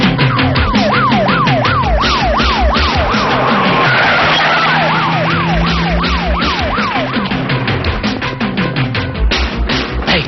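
A loud police siren wails continuously in a rising and falling pattern alongside a car in a Tamil film scene. It stays close and dominant throughout, with no talking.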